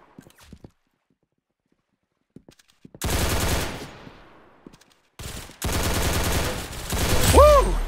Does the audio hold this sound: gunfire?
yes